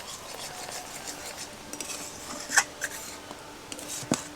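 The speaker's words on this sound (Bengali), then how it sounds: "কড়াইয়ের চারধারে যে সরটা উঠে আসছে সেই সরটাকে খুন্তি দিয়ে এভাবে চেঁচে দুধের মধ্যে দেব।" A metal spatula scrapes the skin of boiling milk, flavoured with saffron, cardamom and pistachio for kulfi, off the sides of a wok. Faint soft scraping is heard over a low simmer, with a few sharper clicks and scrapes.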